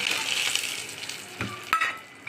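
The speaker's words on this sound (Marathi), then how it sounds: "हे चांगलं परतून घ्यायचं आहे शेवाया चांगल्या तुपामध्ये लाल करून घेणारे" Vermicelli roasts in ghee in a pan, giving a soft, close sizzle with a couple of sharper scrapes or knocks near the end of the brief stretch.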